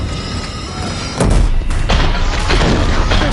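Heavy energy-weapon fire from Deathbringer machines slamming into a bridge in Horizon Zero Dawn, a loud booming impact over a dense, roaring battle din.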